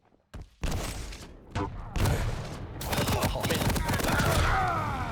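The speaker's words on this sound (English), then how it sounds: "Nice little rocket though" Several rocket launcher explosions from a Quake duel thump in quick succession. Heavy blasts layer over each other amid constant gameplay noise and a commentator's voice.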